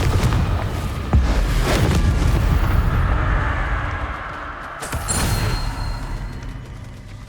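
A fire-spell blast cast in Hogwarts Legacy: a heavy booming burst up front, then a second thudding impact a few seconds later, with rumbling debris and crackle continuing throughout, loud and close.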